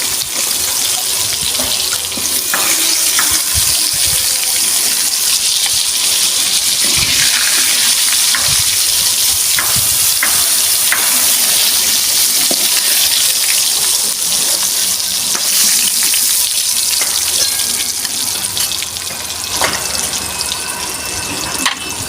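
Pieces of pointed gourd (potol) fry in hot oil, giving a loud, continuous sizzling hiss with scattered crackles that holds steady throughout.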